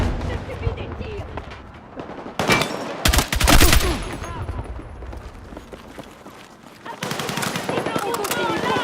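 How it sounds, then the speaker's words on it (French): Gunfire in the video game Battlefield 6: heavy automatic bursts and loud shots crowd the mix, peaking in dense volleys near the middle, with in-game voices shouting over the combat. "Demande de soutien! Je subis des tirs!"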